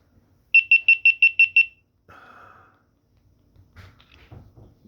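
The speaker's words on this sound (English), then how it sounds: "It's a beeper. It's just a beeper" A malfunctioning GoPro Mini 11 camera gives a quick run of seven sharp, evenly spaced electronic beeps, followed by a softer tone and faint handling noises.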